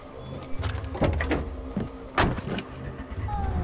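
A car in the game Far Cry 4, with mechanical clunks and a rising motor whir like a door and window working, then the engine starting and idling, heard close with no talk.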